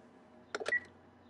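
A dead telephone in the video game The Last of Us Part 1 gives a quick pair of button clicks followed by a short, faint beep.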